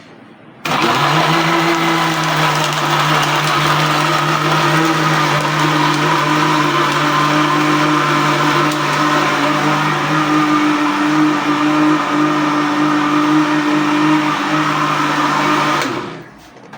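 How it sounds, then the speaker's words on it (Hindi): A mixer grinder blending a banana shake whirs loudly and steadily for about fifteen seconds, starting abruptly and winding down at the end, with no voices over it. "जब तक मैं ग्राइंडर चला रही हूँ तो शायद मैं आपको मेरी आवाज़ नहीं आएगी, सिर्फ मशीन की आवाज़ आएगी"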